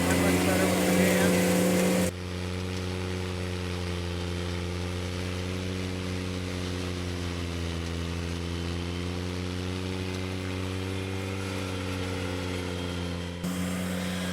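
A riding mower engine drones steadily while cutting heavy, knee-high fescue, a constant close mechanical hum with a slight wavering pitch and no break across the whole stretch.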